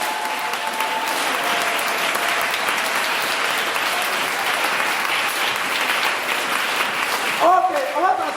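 A church congregation applauds and cheers at length, dense steady clapping filling the room, with voices raised among it and a speaker talking near the end.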